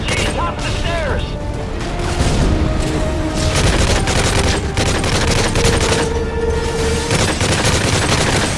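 Dense video-game gunfire from Call of Duty MW3 fills the scene: continuous rattling automatic bursts and booms layered together, loud and close, with mechanical clatter running throughout and no pause.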